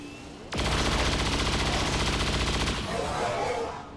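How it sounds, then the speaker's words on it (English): A Grenadier's volley of gunfire in XCOM 2, one dense, loud burst of rapid shots lasting about two seconds before fading into a ringing tail. "we are then following it up with another volley from Grenadier QT"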